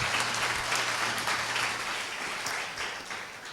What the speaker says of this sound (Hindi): एक बार जोर से ताली बजा दीजिए अगर सब लोग ठीक हैं।